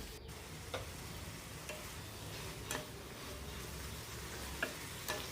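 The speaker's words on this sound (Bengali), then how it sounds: "আলুটা দিয়েও খুব ভালো মতো নেড়ে চেড়ে মিশিয়ে কষিয়ে নিতে হবে" Banana flower and fried potatoes being stirred in a pan, a faint steady sizzle with sparse clicks of a spatula against the pan every second or so, nothing else heard.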